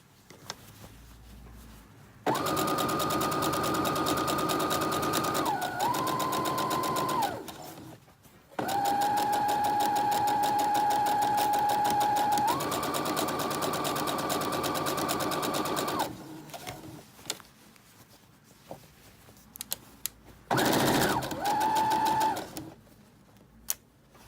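A sewing machine stitches a seam in several sustained whirring runs with short pauses between them, loud and close, with no talking.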